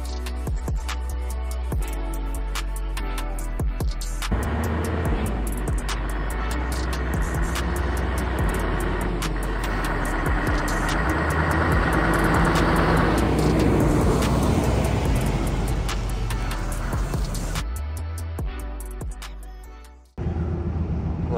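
Steady road noise inside a long-haul truck cab on a Belgian motorway around Brussels, a continuous engine drone and tyre rumble that swells and eases, with no voices.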